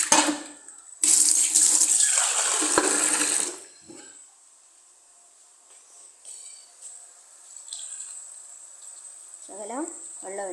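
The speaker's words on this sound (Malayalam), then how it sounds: "ശകലം വെള്ളം ഒഴിക്കാം." Water splashes into a pan of chickpea curry in a short, loud pour lasting a few seconds, followed by quiet kitchen noise and a brief voice near the end.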